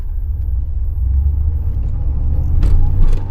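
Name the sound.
1987 IROC car engine running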